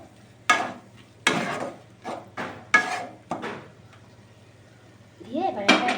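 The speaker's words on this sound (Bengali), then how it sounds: "এবার এর মধ্যে আমি ছোটো 2 চামচ ধনে গুঁড়ো দিয়ে দেব। দিয়ে একটু নেড়ে দেব।" Coriander powder stirred into egg bhujia in a pan with a spoon, a few scraping strokes against the metal, heard under a voice speaking throughout.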